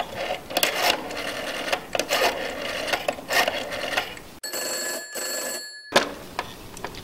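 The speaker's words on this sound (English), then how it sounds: "Ringing the police department." An old telephone rings in a radio drama, a bright electric bell burst of about a second and a half that cuts in sharply after a stretch of clattering, mechanical noise.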